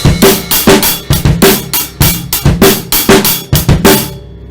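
Drum-kit rendition of a song's beat played plain without ghost notes: steady kick and snare hits with hi-hat in a repeating groove, loud and close for about four seconds, then stopping.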